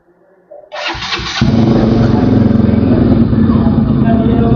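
A faulty motorcycle's engine cranks and catches, then settles into a loud, close, steady high-revving drone after a brief starting burst.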